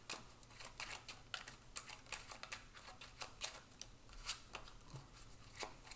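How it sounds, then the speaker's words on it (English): Deck of cards being shuffled by hand for a dark gothic tabletop card game: quiet, rapid crisp riffling clicks and snaps in a steady flutter, close and faint over a low background hum, with no talk. "We will need to shuffle."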